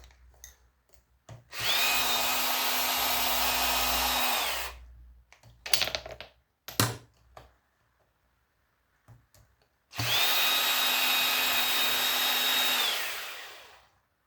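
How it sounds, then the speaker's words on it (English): A power drill backs screws out of heavy industrial aluminium scrap in two loud, steady whirring runs of about three seconds each, with brief clunks and handling noises between them. "So, we'll start taking a few screws out here."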